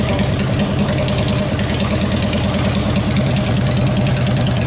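The engine of a scaled Cobra idles steadily and loudly, with a constant low, even throb and no revving.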